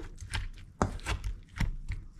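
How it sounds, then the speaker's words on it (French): Ripe tomatoes are crushed by hand in a small mixing bowl to release their juice, giving a series of wet squelching and squishing bursts at an uneven rhythm, close and moderately loud. "je vais tout simplement écraser pour qu'en fait mes tomates sortent leur jus"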